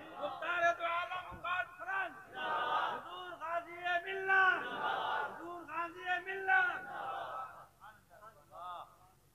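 A large crowd at a religious gathering roars a chanted response to the Nara-e-Takbir slogan, loud voices rising and falling in several surging waves, close and dense.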